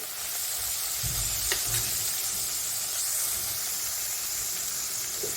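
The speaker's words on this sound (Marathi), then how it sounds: "आता ह्याला अजून थोडंसं परतून घेऊया" Chopped garlic sautés in a pan with a continuous bright sizzle and hiss, punctuated by a few stirring scrapes and clinks, close and alone without speech.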